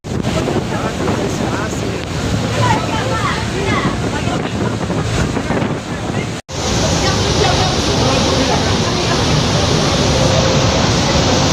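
A thunderous, continuous roar of Niagara Falls, heard up close from a boat, fills the space, broad and unbroken, with a brief dropout midway before the rush resumes.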